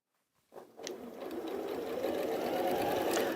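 A sewing machine starts up and runs steadily at a moderate pace while sewing a small stitch length, its motor whirring close and continuous.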